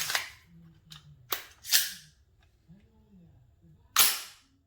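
Gunshots from a firearm fitted with a mitigation buffer, quieter than before: several sharp cracks spaced unevenly, one louder shot near the end, with faint background noise between them.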